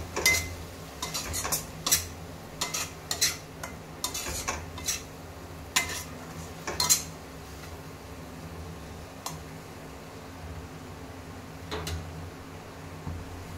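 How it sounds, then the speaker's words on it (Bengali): A spoon mixes ground coriander, cumin and turmeric into a spice paste in a bowl, making soft scrapes and light metallic clinks in irregular bursts that thin out toward the end. "ধনে গুঁড়ো, জিরে গুঁড়ো। এবারে মশলাটাকে ভালো করে মিশিয়ে নিলাম।"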